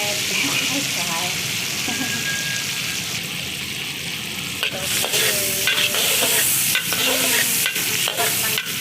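Garlic frying in butter for spicy buttered tiger prawns, a steady close sizzle with stirring clatter and utensil scrapes, louder bursts toward the end, with a voice speaking faintly at times.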